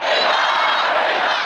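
Hundreds of party faithful at a rally in Iran chant and shout together in a loud, dense, continuous roar that holds steady throughout, with no single voice standing out.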